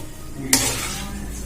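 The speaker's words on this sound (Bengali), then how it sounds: "এবারে এর মধ্যে লঙ্কাগুলো দিয়ে ভেজে নেব" A sudden burst of sizzling as chilies hit hot oil, then a steady hiss of frying continues.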